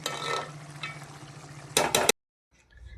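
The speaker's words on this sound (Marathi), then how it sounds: "भाजीला तर आपण हलवून घेऊ." A spatula stirring a dry vegetable dish in a frying pan, a close scraping sizzle that swells into a brief burst of louder scraping and then stops abruptly, with no speech.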